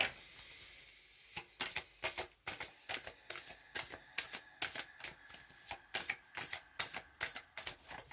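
A deck of Mystical Shaman Oracle cards by Colette Baron Reid is shuffled close up, making a quick, rhythmic series of crisp riffling bursts in steady repetition, quiet and without talk.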